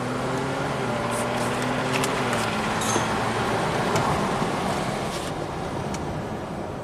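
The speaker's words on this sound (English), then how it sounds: "We have to make sure the car shifts appropriately to verify" A supercharged 2018 Jaguar XE AWD with a transmission fault drives along, heard from inside as a steady engine and road drone with a low hum that rises and falls slightly, and no talk.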